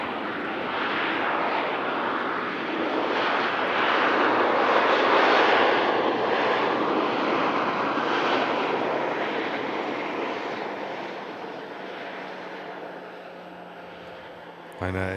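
A fixed-wing airliner arriving from Cork at Manchester Airport: a broad, loud engine roar that swells and holds, then slowly fades, with people talking faintly underneath.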